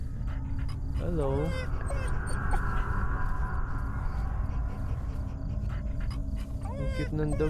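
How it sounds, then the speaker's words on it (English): In the horror video game Fears to Fathom, a dog whimpers and pants. High, wavering whines come in short bursts near the start and again near the end, over a constant low background hum. "Ang cute ng dog, oh."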